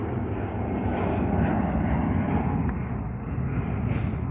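An EasyJet airliner at Manchester Airport, a loud, steady, broadband jet engine roar that stays close and continuous throughout without pause.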